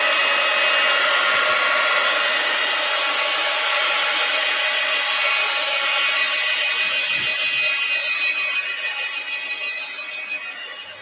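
A hair dryer blows steadily at close range to dry a wet art journal book, a continuous loud whooshing hum that eases slightly toward the end, with no speech.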